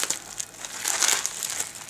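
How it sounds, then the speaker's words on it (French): A well-packed parcel, just taken out of a Lettre Max envelope, is unwrapped up close, giving a steady run of crinkling and crumpling packaging noise with a few louder rustles, and no one talks. "donc je déballe en même temps car je viens juste de le sortir de la lettre max, donc très bien emballé"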